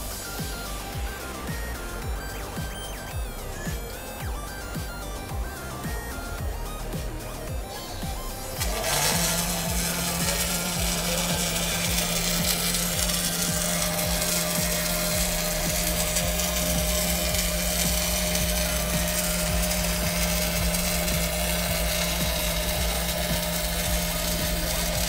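An OTC Daihen robot lap welds 3.2 millimeter mild steel at 300 amps with a 42 inches per minute travel speed: a steady, loud, continuous buzzing hiss begins partway through and holds to the end, over a busy background of trade-show noise.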